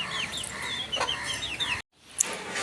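Chickens crowding in at a farmyard gate give several close clucks and short squawks over a rural background, with a brief cut to silence before one more sharp call.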